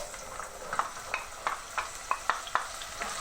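Sliced onions and star anise sizzle steadily in a hot pan, with a utensil scraping and stirring in regular strokes roughly every third of a second, close and moderately loud, with no voices.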